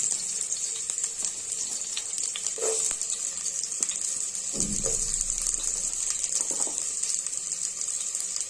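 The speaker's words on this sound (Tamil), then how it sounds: "பொடிப்படியாக நறுக்கி வச்சிருக்க பெரிய வெங்காயத்தை போட்டுக்குவோம்" Finely chopped big onions tipped into hot oil for a mutton curry, a steady sizzle and frying hiss with a few stirring scrapes, close and continuous with no talk.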